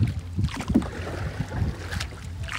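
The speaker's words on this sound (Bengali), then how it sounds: "কত বাতাস, নৌকা যায়।" A boat travels along a river in strong wind, with loud gusts buffeting the microphone over a low, continuous rumble of water and hull noise.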